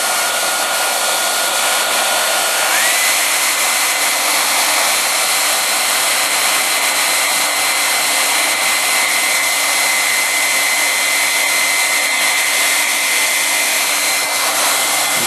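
A hair dryer blows steadily at close range, heating Sno Seal wax into a leather sheath, with a constant airy roar and no talking.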